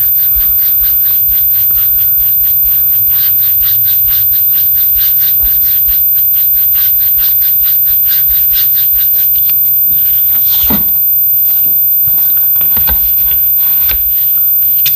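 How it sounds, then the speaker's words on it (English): A paintbrush scrubbing paint hard onto a wooden bunny banner, a fast steady rhythmic scratching that continues close up throughout, with a few louder scrapes near the end. "I know I'm starting to scrub a lot harder."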